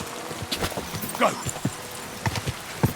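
A horse's hooves clip-clop in an irregular walking rhythm in the video game Kingdom Come: Deliverance II, close and moderately loud, with a faint voice briefly heard.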